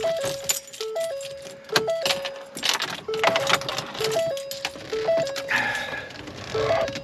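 Car keys on a ring jangling while the ignition key is picked out for a 2013 Ford Edge, close metallic clinking mixed with a repeating two-tone electronic chime from the car.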